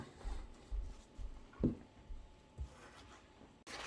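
Flour and grated potato batter stirred in a bowl, giving soft, uneven scraping and thudding strokes at close range, with a sharper knock near the middle and no talking.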